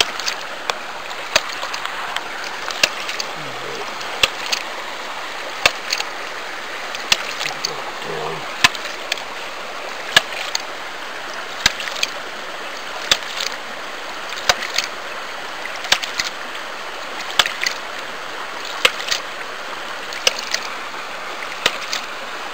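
A hydraulic ram pump pushes water into its delivery line with a regular clack of its valve, sharp knocks repeating roughly every second or so over a soft background of flowing water.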